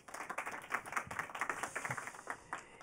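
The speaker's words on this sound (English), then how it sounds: "Round of applause for Javier" A small conference audience claps at a tech summit, a few distinct hands slapping in a quick, uneven rhythm, fairly close and sparse rather than a full roar.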